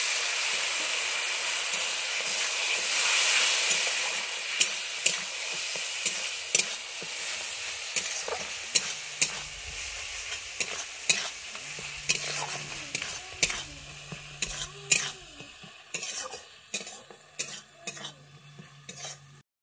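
Water goes into a sizzling spice paste cooked with sugar in a pan for a Bengali prawn and elephant-foot-yam curry. A loud hiss fades into softer bubbling, punctuated by repeated scraping and clinking strokes of a spatula.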